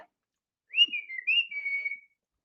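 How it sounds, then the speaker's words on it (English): A man whistles by sucking air in rather than blowing out, giving two short, thin, wavering whistled phrases, fairly close and alone in an otherwise quiet room. "I suck in when I whistle. I don't blow out."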